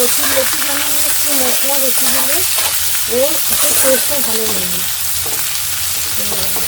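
Sliced onions go into hot oil with bay leaves and keep up a continuous sizzle, while someone talks over the frying the whole time.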